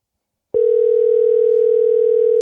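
A phone call tone sounds: after a brief silence, a single steady, loud electronic tone begins abruptly and holds unbroken to the end.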